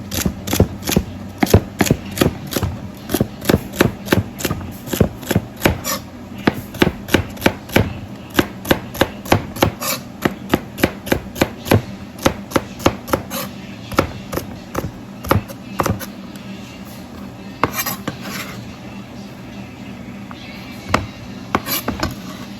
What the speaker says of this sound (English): Kind of trying to cut everything in a